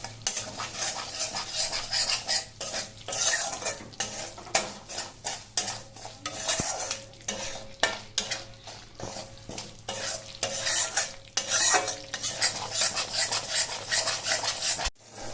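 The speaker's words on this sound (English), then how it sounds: "We need to stir this continuously from low to medium flame." Flour being stirred into hot ghee in a pan for sheera, an Indian sweet, giving a steady scraping and stirring with light sizzling and occasional utensil clinks against the pan, close and continuous with no talking.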